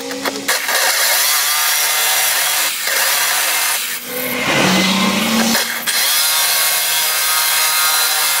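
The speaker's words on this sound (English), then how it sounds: "Drilling spot welds" Loud, continuous grinding of a power drill biting into spot welds on a Mk3 Ford Cortina estate body, with brief pauses and changes in pitch as the bit works through.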